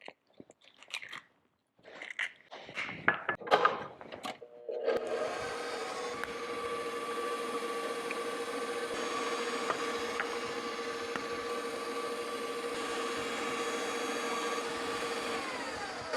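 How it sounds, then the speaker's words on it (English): A KitchenAid stand mixer with the paddle attachment whirs steadily at a constant pitch after a few clunks and knocks, running close by and alone as eggs are mixed into dough. "This is just gonna go into the bowl of my KitchenAid mixer that has the paddle attachment on for now."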